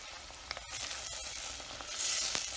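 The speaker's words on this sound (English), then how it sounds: "Let's add in the onions, and we'll just stir it in the mixture until the onions become translucent." Onions sizzle steadily in a pan while being stirred into a mixture, a broad hiss that swells louder toward the end with a few soft scraping knocks.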